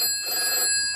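A telephone rings in a radio comedy sketch, a steady electronic bell trill lasting about a second with no talk over it.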